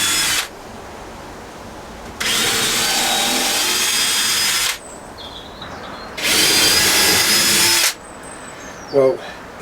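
A power drill bores through wood during a cabin rebuild made from pallets. Two long, loud whirring bursts are separated by quieter pauses, ending with a short mechanical squeak.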